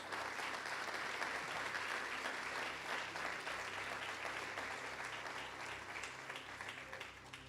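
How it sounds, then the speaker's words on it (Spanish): A church congregation applauds during a sermon, a steady, even wash of many hands clapping that holds at moderate loudness throughout without fading. "Démosle un aplauso a la palabra de Dios."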